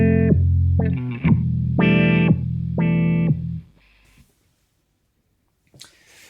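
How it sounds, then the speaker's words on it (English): A GFI System Rossie envelope filter pedal in step filter mode chops a guitar note into distinct stepped tonal bursts, three or four choppy pulses, then fades to near silence with faint clicks. "There's a step filter mode, which with these settings sounds like this."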